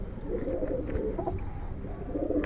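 Soft, low cooing comes from a fidgety Giribaj pigeon held in the hand, a steady murmur lasting a couple of seconds with light handling rustle and no speech.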